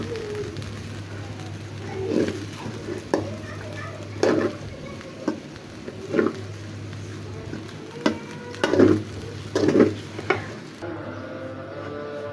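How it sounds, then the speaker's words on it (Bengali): Spices are stirred into chilli chicken fried rice in a pan, giving a series of irregular scraping and clattering strokes at close range, with birds chirping and faint voices in the background. "এখানে মশলাটা দিয়ে আমি ভালোভাবে মিশিয়ে নিচ্ছি।"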